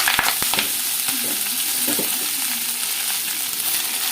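Washed and dried drumstick leaves dropped into hot oil in a pan, giving a loud continuous sizzle with stirring scrapes and crackles throughout, close up and without talk.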